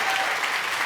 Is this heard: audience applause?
yes